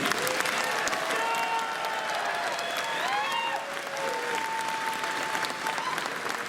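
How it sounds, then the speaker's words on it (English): Sustained applause from a large convention crowd at a closing ceremony fills the space, steady and loud throughout, with a few voices and whoops rising over the clapping. "please give a big round of applause to the entire city"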